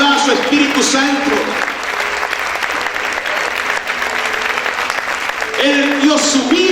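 A church congregation claps loudly and steadily in worship, a dense wash of hands filling the room throughout, with a voice speaking over the applause.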